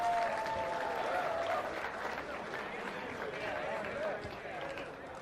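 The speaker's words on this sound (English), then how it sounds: "Let's give a round of applause to Angelino Cordova." Crowd at a boxing media workout gives applause for a fighter, sustained clapping and cheering heard at a moderate distance in a large room, with voices talking over it.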